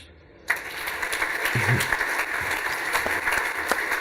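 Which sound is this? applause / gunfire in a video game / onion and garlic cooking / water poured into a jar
applause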